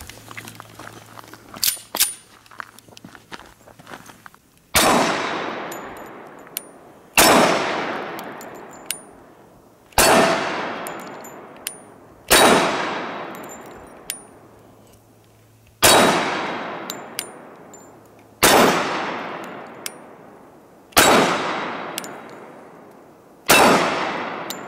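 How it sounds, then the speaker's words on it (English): A Sig Sauer Emperor Scorpion 1911 pistol fires about nine single shots at an outdoor range, evenly spaced a couple of seconds apart. Each report is loud and sharp, rings with a metallic clang and decays before the next one. "We're gonna put some rounds through it and see how it shoots."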